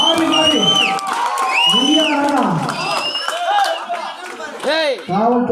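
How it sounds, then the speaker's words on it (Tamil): A crowd at a kabaddi tournament final between Tamil Nadu Police and Income Tax in Salem claps and cheers while a commentator talks loudly over the noise, with whistling tones sliding up and down throughout. "அருமையான மீண்டும் ஒரு வெற்றி புள்ளி கைத்தட்டி உற்சாகப்படுத்துறாங்க."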